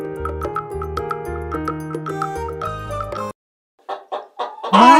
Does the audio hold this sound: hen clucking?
yes